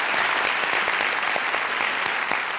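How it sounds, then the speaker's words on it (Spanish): Studio audience on a TV quiz show applauding a tenor, a full, steady roar of dense clapping with individual claps audible throughout, sustained and fairly loud. "Con este aplauso para el gran tenor nos despedimos."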